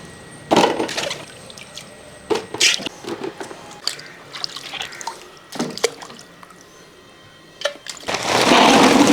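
Mangoes are washed a few at a time in water, with splashes, drips and sloshing that come in bursts and pauses, ending in a louder, continuous rush of water.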